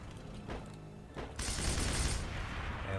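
Gunfire from a squad-based military shooter video game, with a few scattered distant shots followed by a dense, sustained burst of rapid fire that fills the last couple of seconds; no voices.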